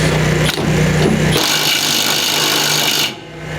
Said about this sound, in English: now we're going to use a 1/2-inch air impact versus the 1/2-inch cordless